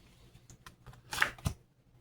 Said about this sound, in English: this means replenish the deck and shuffle.